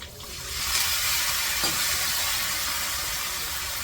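Water poured into a pan of hot oil with stuffed brinjals, a sudden broad hissing sizzle that swells within a second and holds steady, close and fairly loud.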